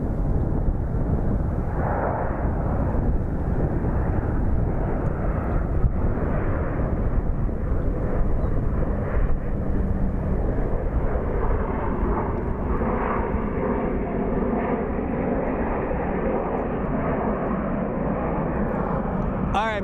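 A Delta airliner departing Sky Harbor Airport produces a loud, steady jet roar that holds throughout with little change in level.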